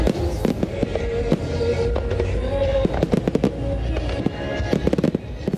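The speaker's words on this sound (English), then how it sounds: "Fireworks light up the night sky over Pearl Harbor in Hawaii." Fireworks from Nagaoka, Japan, launched over Pearl Harbor, Hawaii, for the 70th anniversary of the end of World War II: a dense barrage of booms and sharp crackling bursts, loud and continuous, with a flurry of pops at the end.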